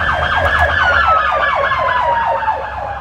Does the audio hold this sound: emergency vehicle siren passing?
yes